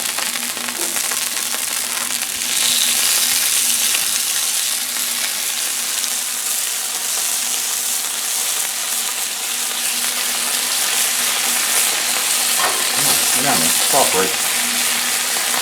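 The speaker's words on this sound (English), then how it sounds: "Let me get a little sizzle." Potatoes frying in oil on a Blackstone griddle, a loud continuous sizzle with crackling and a few scraping spatula clatters near the end; a brief spoken word is heard.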